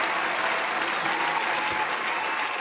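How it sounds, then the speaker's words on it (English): Audience giving the actors a round of applause after a community performance, continuous even clapping from a room of people at moderate distance, with no one speaking. "just a quick round of applause to our fantastic actors"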